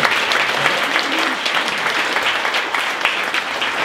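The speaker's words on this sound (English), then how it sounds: "Applause is appropriate." A room of attendees at a business breakfast applauds, a thick, continuous roar of many hands clapping at steady strength for the whole stretch, with no talking over it.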